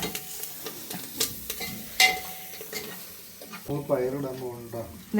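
Masala for a green gram curry with kanthari chillies fries inside a pressure cooker, giving a crackling sizzle with scattered scrapes and taps from stirring. A voice briefly talks over it near the end.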